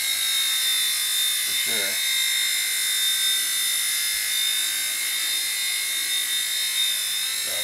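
Blade Nano CPS RC helicopter fitted with a brushless motor and Rakon frame, hovering with a loud, constant high whine; a voice speaks briefly near the start over the steady motor tone.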